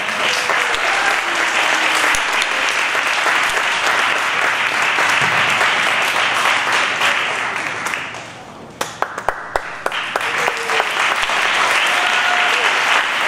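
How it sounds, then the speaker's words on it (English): A large audience applauds steadily at a school graduation ceremony, a dense wash of clapping that thins near the end into scattered individual claps before swelling again. "So one more round of applause."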